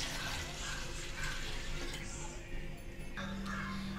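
Water left from washing rice is poured while cooking sweet pongal, a steady close splashing flow that changes tone near the end, with a little background noise.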